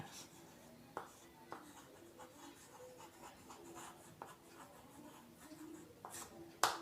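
Chalk or marker writes on a board during a physics lesson, with scattered soft taps and scratchy strokes, faint and close under a quiet room background.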